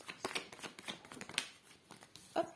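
Tarot cards handled and drawn from a deck, quiet scattered rustles and light slides with a sharper card snap near the end, close and soft.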